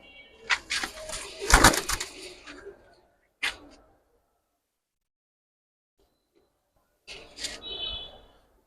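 Army pigeons make a few soft close bursts of cooing and rustling with a brief wing-flutter, separated by quiet gaps, fairly faint overall.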